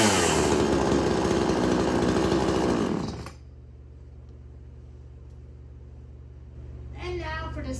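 A gas chainsaw runs loud and steady at full throttle, then cuts off to a low idle rumble, with a brief voice near the end.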